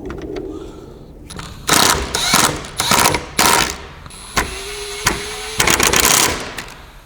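OEM screw driven in with a power tool to secure a carbon fiber grill on a Mazdaspeed3, several loud close bursts of whirring separated by short pauses, with ratcheting clicks between them.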